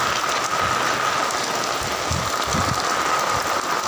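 Steady rain falls on a city street all day, a dense, even hiss of drops hitting surfaces with no pause or voices.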